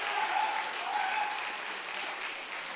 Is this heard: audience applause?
yes